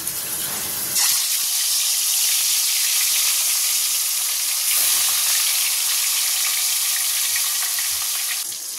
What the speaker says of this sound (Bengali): চলো মাছগুলো এবার ভেজে নিই।